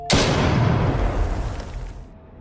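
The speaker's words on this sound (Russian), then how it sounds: "Выстрел." A single loud gunshot in the shooter game Lost Light, sharp crack followed by a booming tail that rolls off and fades over about two seconds.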